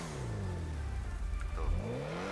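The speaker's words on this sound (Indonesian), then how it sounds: "suara nos dan suara knalpot tembakannya itu ya" A car in FiveM (GTA V) revs steadily with a whirring nitrous boost, the engine drone rising and falling, with a couple of brief crackling exhaust pops near the end.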